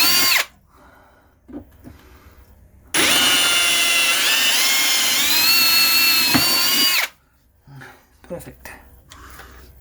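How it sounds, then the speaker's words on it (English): A power drill runs steadily for about four seconds, loud and close, enlarging holes for 1/4-inch bolts while fitting a solenoid, with quieter handling noise and brief talk before and after. "So I got those drilled out."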